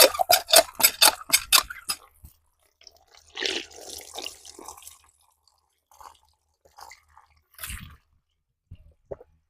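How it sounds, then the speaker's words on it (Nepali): Rhythmic squeaking creaks from an old village hand pump being worked, followed by bursts of water gushing and splashing, with quiet pauses and drips between strokes. "हाम्रो चाहिँ पुरानो नलका, गाउँको नलका यस्तो कस्तो हेर, हाम्री भान्जी चलाउन लाग्छन्।"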